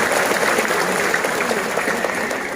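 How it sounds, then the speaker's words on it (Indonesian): A large crowd at a mass Islamic religious gathering in Megang Sakti, Musi, applauds the organizing committee with loud, continuous clapping that stays level for the whole stretch. "Saya minta tepuk tangan dulu buat para panitia kita yang begitu luar biasa"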